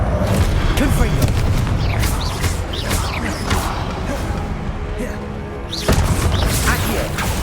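Blasting Confringo spell casts in the video game Hogwarts Legacy, a loud, dense run of booming impacts and crashes over busy game sound, with a sharp new burst near the end.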